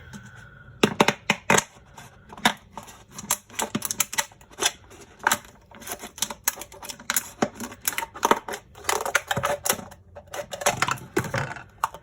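Scissors chop through a 20-ounce plastic soda bottle in a rapid series of crisp snipping crunches and crackles, irregular and close, with brief pauses between bursts and no talking.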